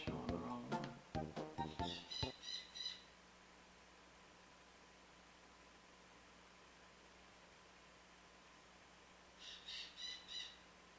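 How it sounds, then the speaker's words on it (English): A pet bird indoors squawks in a rapid burst of sharp, repeated calls, falls silent amid a low background hiss, then calls again in a shorter, fainter run of chirps near the end. "My bird is so annoying."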